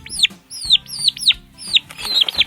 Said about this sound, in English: most of the chickens we have here are a mix between lavender Orpingtons and Easter eggers